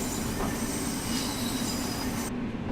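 Train running on rails in Train Sim World 5 under AI control, with a steady rolling rumble and wheel noise carrying at an even level throughout, plus a high squealing tone along the top, with no talking over it.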